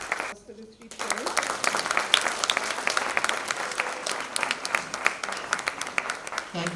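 A crowd at a literary festival bursts into applause for three poets after a multilingual reading, sustained dense clapping rising just after a short pause and continuing to the end.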